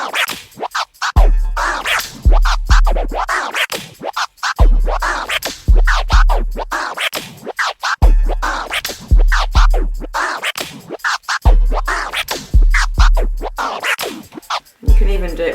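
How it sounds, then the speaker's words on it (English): DJ turntable tear scratch cut in half with a two-part flare, a loud run of rapid rhythmic scratch strokes repeated in close, regular bursts across the whole stretch. "on each part of the tear I'm going to cut it in half with the flare"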